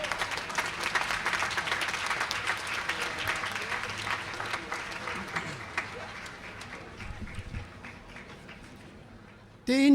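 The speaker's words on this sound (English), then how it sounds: "Let's give a round of applause to the EML graduates." Applause from a commencement audience for graduates at a university ceremony, loud sustained clapping at first that gradually thins and fades, with some voices mixed in, before a sudden loud sound at the very end.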